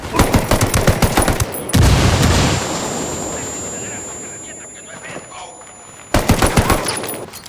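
Rapid automatic gunfire from a video game shootout rattles in dense bursts at the start, gives way to a heavy boom and a fading rumble, then returns in a loud, rapid volley at the end.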